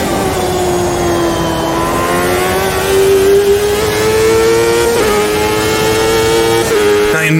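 A race car engine in Automobilista 2 holds a loud, steady high drone alone, pitch climbing slowly through a long pull with brief dips near the five- and seven-second marks as gears shift on an oval.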